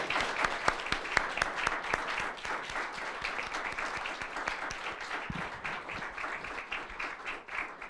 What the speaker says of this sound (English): if we give another round of applause, he'll hear us down there.